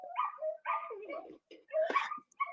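Several dogs bark and yip in a house, a ragged mix of short barks, whimpers and higher yelps at moderate distance, with brief gaps between bursts.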